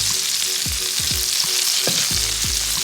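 Meatballs frying in oil in a pan with salt and garlic salt, a loud steady sizzle with several soft knocks and scrapes as they are turned onto their sides, no voices.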